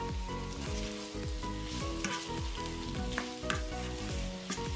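Beef sizzling as it is stirred into rendang paste in a pan, a steady close fry with repeated scraping strokes of a spoon or spatula running throughout.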